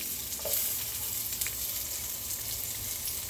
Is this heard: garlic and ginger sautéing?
yes